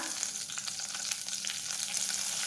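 Peppercorns and bay leaf frying in hot oil in a kadhai on a gas stove for a restaurant-style methi matar malai, giving a steady, close, dense crackling sizzle with sharp spitting pops throughout.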